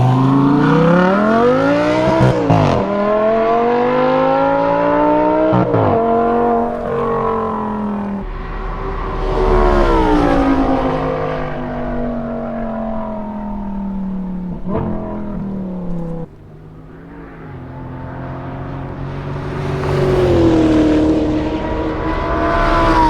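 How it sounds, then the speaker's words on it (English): An Audi R8 with a V10 engine screams around a race track, its loud revs climbing repeatedly through the gears with brief dips at each shift, sustained and close throughout. "So now I want to buy an R8 even more than I did before"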